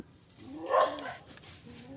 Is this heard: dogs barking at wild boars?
yes